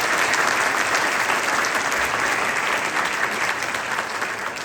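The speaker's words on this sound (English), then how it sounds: "give all the Salem people a big round of applause for hosting the" A school auditorium audience gives a loud, even round of applause at a county honors band concert, dense clapping holding steady throughout and easing slightly toward the end.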